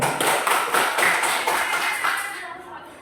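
A classroom group claps hands in a quick, fairly regular run of broadband bursts that fades out near the end, with a little voice mixed in.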